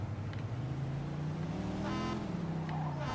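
A car drives in the Mafia 2 video game, its engine a steady, close, continuous drone that rises slightly in pitch partway through, with no voices.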